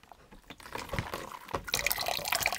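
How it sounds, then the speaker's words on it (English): Dyed fabric, colored with Nova Scotia Blue dye, is rinsed in water in a sink, with irregular sloshing, splashes and drips that grow busier and louder toward the end, close up and with no speech. "This will be rinsed gently in more water in the sink."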